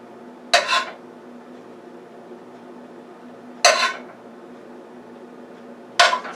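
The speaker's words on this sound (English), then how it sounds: "now I would like to put some gravy that's in the frying pan here" A spoon scrapes leftover beef gravy from a frying pan onto rice, giving three sharp metallic clinks a few seconds apart, close and distinct over a low steady hum.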